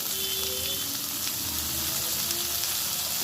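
Papaya, green banana and potato pieces fry in hot oil, giving a steady, close, crackling sizzle with no voices.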